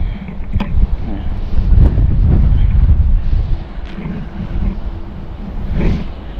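Strong wind buffets a small fishing boat out on open water, a loud, steady rushing roar with gusty swells and occasional splashes and thumps; no speech is heard.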